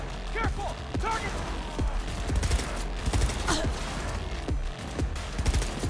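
Gunfire from a gun in the video game Cyberpunk: repeated sharp shots in quick bursts with mechanical clicks between them, fairly close and steady over several seconds.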